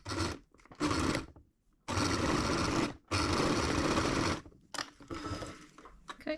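A sewing machine stitches small hems on a doll's hood in short, close bursts of rapid mechanical whirring separated by brief pauses.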